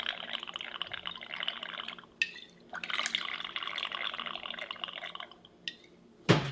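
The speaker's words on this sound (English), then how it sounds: "So we pour out 3 ounces of our batch, our clarified milk cocktail" A clarified milk cocktail pours from a batch in two steady streams a few seconds each, a soft liquid trickle up close, followed by a sharp clink at the end.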